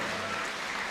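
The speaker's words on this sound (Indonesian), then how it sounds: "Mari kita berikan tepuk tangan bagi seluruh panelis," Steady applause from a university lecture audience, a dense wash of clapping that continues throughout without voices.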